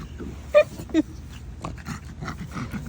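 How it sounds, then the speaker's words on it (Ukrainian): A dog pants in hot weather, with quick breathy huffs close by and two sharper snort-like bursts near the start. "Собака хэкая не потому, что он жирный, а потому что жарко."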